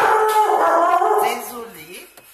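A dog barks and howls close by in a home, harmonic yelps rising and falling over about two seconds, while someone speaks briefly over it.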